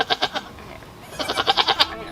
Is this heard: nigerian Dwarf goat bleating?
yes